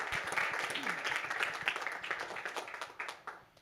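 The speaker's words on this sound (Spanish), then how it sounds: "Un aplauso gigante para Ale, por favor." Applause from an audience at a business talk, clapping at fairly low volume that is dense at first and then thins into scattered claps toward the end, with faint voices underneath.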